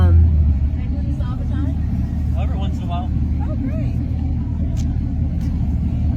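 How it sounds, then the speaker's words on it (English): Cars pull up at an outdoor car show in Las Vegas, their engines a steady low rumble throughout, with people talking over the engine noise. "there are a bunch of cars pulling up"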